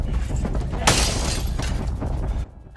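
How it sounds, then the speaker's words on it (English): Glass smashing during a heist scene in a film: one loud sharp crash near the middle with bright scattering debris, over a busy background of movement and noise, cutting off abruptly near the end. "I'm surprised he was the one to break the glass"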